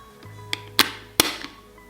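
A handbag's clasp lid snapping shut indoors: a soft click, then two sharp, close snaps about half a second apart, with faint rustle around them and no talking.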